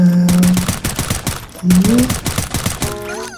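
Rapid automatic gunfire from Free Fire rattles in fast, loud bursts, pausing briefly before another volley, with tonal game effects over the shots.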